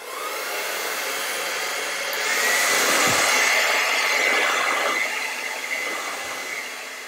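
A hair dryer blows a steady, loud whooshing drone while drying a painting, its pitch rising slightly midway as it moves, with no talk.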